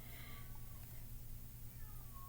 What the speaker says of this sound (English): My cat has been going off for hours.